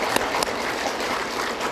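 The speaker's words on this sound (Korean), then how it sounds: "우리 박수 격려 한번 쳐주십시다." An audience at a New Year gathering and lecture applauds in a brief, dense wash of clapping, with a couple of sharper claps standing out early.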